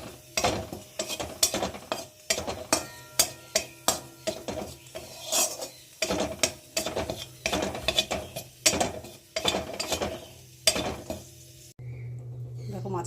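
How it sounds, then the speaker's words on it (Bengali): Ground spices dry-fried in a pan give off a fast, rhythmic run of close spatula scrapes and clacks against the metal, steady for about twelve seconds before a short, quieter stretch at the end. "গুঁড়ো করা মশলা রয়েছে তাই এটা আমি গুঁড়ো করা মশলাকেই ভেজে নিচ্ছি"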